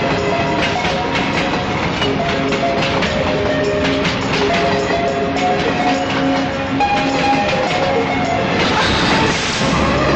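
A train at Bandra railway station rumbles steadily with rhythmic clattering of wheels and carriages, loud and continuous, with station ambience mixed in.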